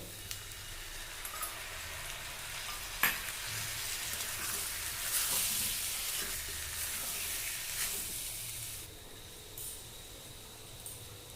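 Potato and pumpkin frying in a pan sizzle and crackle continuously, with a sharp clink of a utensil and an intensifying hiss as chili and turmeric paste goes in, close and without voices.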